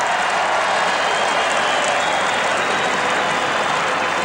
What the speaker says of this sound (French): Applaudissements, mais sans conviction